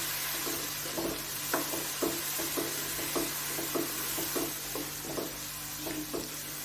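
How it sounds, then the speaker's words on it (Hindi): Beef kabab masala with spices frying in a pan, a steady sizzle broken by repeated scraping stir strokes roughly every half second, close and moderately loud, with no talking. "सारे मसाले डालने और इसको अच्छी तरह"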